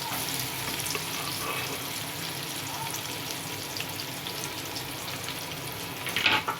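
Onions and green chilies fry in a pan until browning. A steady close hiss continues evenly throughout, ending in a brief louder burst of crackle or stirring.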